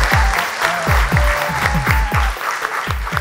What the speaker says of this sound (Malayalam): അങ്ങനെയാണെങ്കിൽ എനിക്കൊരു കൈയടി തരൂ.